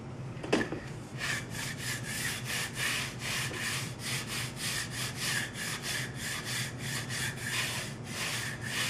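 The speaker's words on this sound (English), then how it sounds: "So I take a sanding" A sanding block rubs back and forth along the rough edges of a spruce spar stick, giving a steady, rhythmic rasping stroke roughly every half second, close and fairly loud, after a brief knock at the start.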